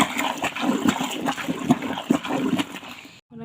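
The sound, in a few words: clothes soaking in a bucket of water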